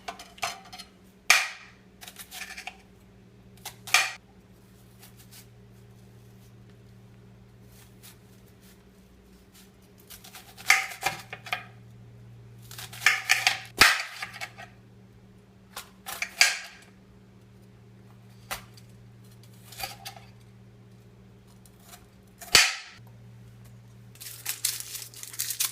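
Two garlic cloves chopped with a dull knife on a board for chicken and sausage gumbo, irregular close knocks and scraping bursts separated by quiet pauses.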